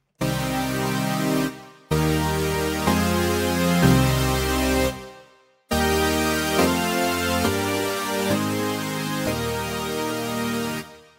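Big, buzzy supersaw synth chords from the default patch of the free MSoundFactory Supersaw instrument sustain for a couple of seconds each, with two short silences between them, thick and bright.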